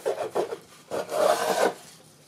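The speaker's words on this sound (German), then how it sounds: "Wir schneiden unseren Teig" A knife slices through dough for salt sticks with several short, rasping strokes on a board. The strokes come in quick bursts, then one longer drawn-out cut, close and moderately loud.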